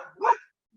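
One short, sharp bark from a nearby dog, loud and clear, followed by silence.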